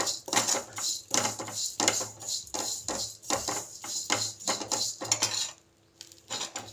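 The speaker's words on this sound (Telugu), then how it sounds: "ఇప్పుడు రొయ్య పొట్టుని వేపుకుందాము." Prawn shells dry-roasting in a pan on the stove, stirred briskly with a metal spoon that clatters and scrapes in a fast, steady rhythm, loud and close with no talk.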